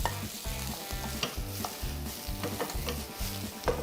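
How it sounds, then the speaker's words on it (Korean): Vegetables and the remaining ingredients for a ramen-based jjamppong stir-fried in a hot wok, with steady sizzling and a regular rhythm of spatula strokes and tosses, close and moderately loud with no talk. "이것도 넣고 뭐한 30초 정도 볶아주세요."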